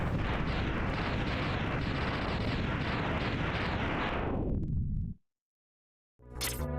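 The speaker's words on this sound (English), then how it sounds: "Yay, lagless explosion." A sustained, loud crackling explosion in a Mega Man X randomizer game rumbles with pulsing bursts for about five seconds, then cuts to silence before a bright chime-like game sound begins.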